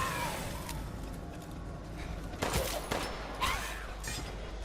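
Gunfire in the survival horror game Resident Evil Village as the player aims for headshots: a few sharp bursts, one near the middle and another shortly after, over a low rumbling game soundtrack, without speech.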